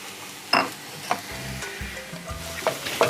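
Finely chopped shiitake mushroom stir-frying in oil for fried rice, a low sizzle broken by several sharp scrapes and knocks of the spatula in the pan, with no voices.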